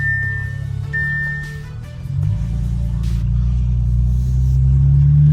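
An Audi RS5 fitted with a newly installed AWE exhaust on a short test drive, a low engine rumble that swells as the car accelerates, growing louder toward the end with a steady droning tone.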